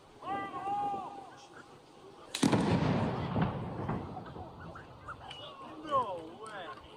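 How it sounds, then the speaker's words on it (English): A bomb squad detonates a suspicious device: one sharp, loud blast rings out after a quieter lead-in, followed by a lingering rumbling tail with voices around it. "watch this video of the bomb squad detonating this suspicious device yesterday"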